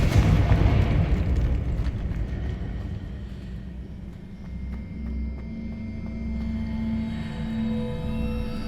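Confringo blasting spell explosion in the Hogwarts Legacy video game: a loud, deep boom that opens the clip and settles into a long, heavy rumble with a low drone and faint crackles running to the end.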